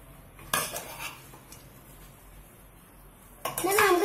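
A spoon scrapes and clinks in a pan while stirring scrambled egg for squid fried rice, with two short bursts of metal-on-pan scraping about three seconds apart over quiet kitchen background and a brief sizzle at the end.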